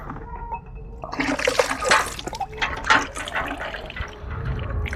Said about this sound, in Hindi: हमने हाथ को धो लिया